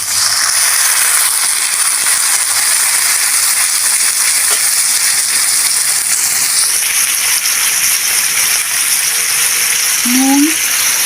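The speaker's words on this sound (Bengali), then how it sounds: "এবার আমি অল্প জল দেব।" Water splashed into a hot pan of fried eggplant for a mixed prawn and radish curry, bringing a loud, steady hiss of sizzling steam that fills the whole stretch.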